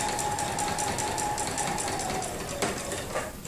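A sewing machine runs steadily while free-motion quilting a curvy grid, giving a continuous close mechanical whir with a rapid stitching rhythm, and a brief clunk near the end.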